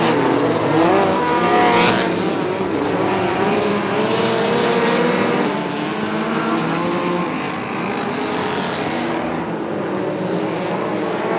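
Race cars roaring around a track during a feature race, a loud continuous engine drone with cars passing close, rising and falling as they sweep by.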